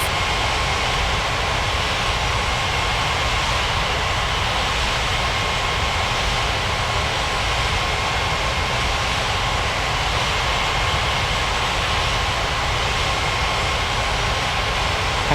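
A UPS cargo jet rolls for takeoff on a runway, a steady, broad roar of jet engines sustained throughout, without speech.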